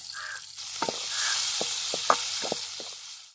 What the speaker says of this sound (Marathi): कापून घेतलंय आणि टाकले आता कढईमध्ये